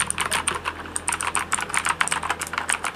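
Rapid, continuous clacking of keys on a Gigaware K28 mechanical keyboard with loud clicky switches, steady fast typing close up with no voices.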